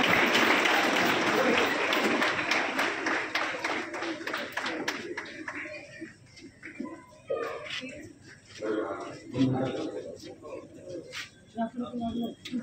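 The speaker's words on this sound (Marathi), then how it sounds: "आपण टाळ्या मारून त्यांचं स्वागत करावं" A political rally crowd in Kankavli claps to welcome an arriving guest, loud sustained applause at first that thins into scattered claps, with voices and bird coos in the background.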